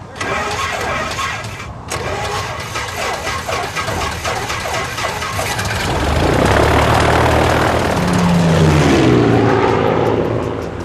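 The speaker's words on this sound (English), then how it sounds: "vehicle is a Piper P-18 Super Cub" A Piper P-18 Super Cub's single piston engine and propeller roar loudly and steadily close by, the tone rising as it revs up and drones on, with no talk over it.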